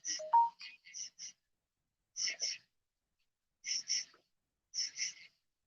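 A mobile phone lying on the ground by a river goes off in several short chiming bursts separated by gaps of silence.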